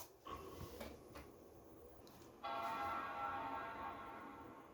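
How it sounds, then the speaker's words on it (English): An Apple Power Mac G5 powers on with its startup chime, a sustained harmonic tone swelling in after a few faint clicks and ringing on steadily, close and clear, with fans whirring underneath. "there's our lovely startup chime."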